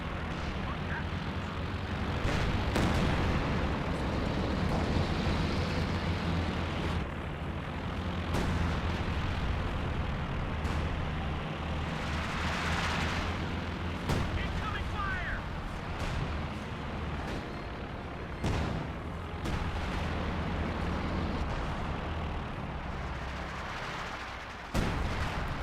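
Artillery barrage from a sector assault in the Company of Heroes 2 strategy game, a dense continuous wash of rumbling blasts and sharp impacts across the whole stretch, loud and sustained with a few stronger hits standing out.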